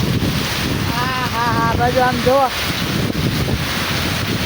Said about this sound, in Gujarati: પવન એવો છે અને વરસાદ એવો, ઝાડવા જો બધા.